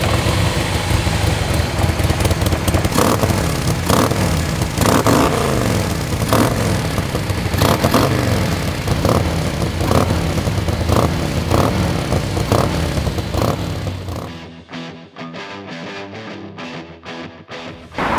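Custom Harley-Davidson Softail Slim with a Super Trap exhaust fires up and runs, a loud, deep, throbbing V-twin rumble with revving pulses, cutting off abruptly near the end.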